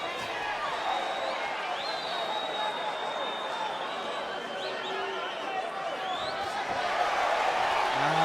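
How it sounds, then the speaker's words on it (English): Crowd noise at a boxing match: a steady, moderately distant roar of cheering spectators that builds slightly toward the end, with faint whistles over it. "Crowd are loving this."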